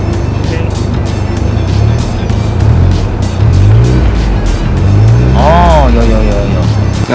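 Revving of a Ford Focus MK4 fitted with an Akrapovič rear exhaust silencer, a loud, close engine note rising and falling in several pushes of the throttle, with people talking over it.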